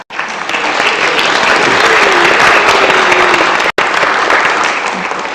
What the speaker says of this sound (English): let us give a round of applause to you for your work on Rails to Trails over the years